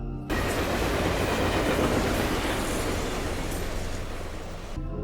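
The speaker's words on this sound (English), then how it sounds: "after you see a train" A train in the 2017 horror film Death House passes as a loud, sustained roar of rumbling wheels and rattling cars. It holds steady for about five seconds before cutting off, with no voices.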